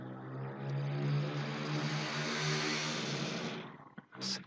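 Delivery vehicles pass outside on a city street, making a loud, steady engine drone that builds, holds for a few seconds and fades, followed by a brief knock.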